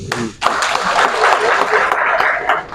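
Crowd applause at a political rally of Guineans in Senegal, a steady wash of clapping that swells and holds loud for a few seconds after a brief opening lull.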